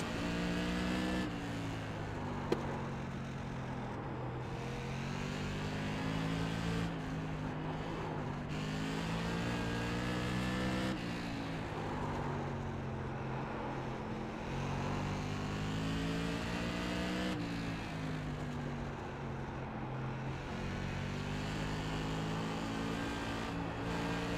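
Modified race car engines in the iRacing simulator drone loudly and continuously, pitch climbing and dipping with repeated throttle lifts and shifts, several cars buzzing together with no talk.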